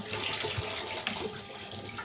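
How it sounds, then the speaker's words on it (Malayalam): Water pours into a vessel in a village kitchen as a steady, moderately close splashing rush that continues without break and with no talk. "അപ്പൊ അതില് കുറച്ച് വെള്ളം ഒഴിച്ച് വെക്കട്ടെ"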